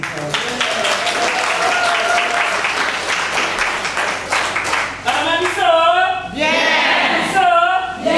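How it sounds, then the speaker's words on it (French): A crowd claps loudly and continuously at a Catholic women's gathering in Brazzaville, the applause sustained throughout, with a voice rising over the clapping in the final seconds. "Est-ce qu'on peut encore applaudir pour ça?"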